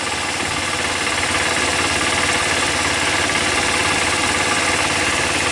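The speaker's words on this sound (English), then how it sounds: "that, my friends, is how to start a motorcycle" A motorcycle engine idles steadily just after starting, a close, continuous mechanical drone with a slight knocking texture and no voices.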